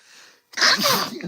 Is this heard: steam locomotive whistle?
no